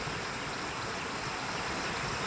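Floodwater after heavy storm rain rushes over the submerged Karnala bridge in Sangli, a steady broadband roar of flowing water, moderately quiet and unbroken, with no voices.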